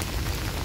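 Heavy rain pours down steadily, a dense, continuous hiss of drops drumming on surfaces close by, loud and unbroken, with no voices over it.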